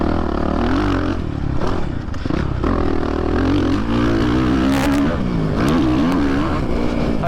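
A Suzuki RMZ450 motocross bike with a cable clutch revs loud and close, its engine rising and falling through throttle blips and gear changes on a dirt track, with no talking.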